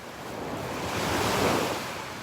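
Gulf surf breaks on the sand at Delnor-Wiggins beach as a broad, steady wash of waves swelling to a peak midway and then easing, with wind buffeting the microphone and no voices.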